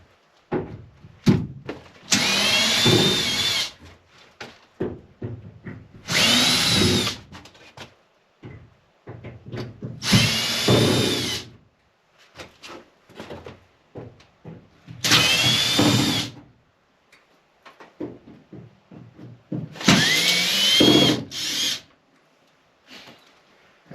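A power drill backing screws out of a ceiling panel, five separate whirring bursts of one to two seconds each, spaced evenly with clicks and handling noise between them.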